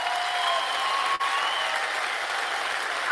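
Steady, dense applause and cheering from a large crowd at a Turning Point USA event with Tucker Carlson, loud and sustained throughout with no voices rising above it.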